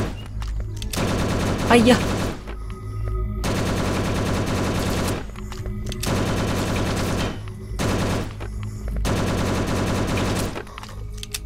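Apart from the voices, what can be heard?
gunfire shooting zombies in video game Last Hope Bunker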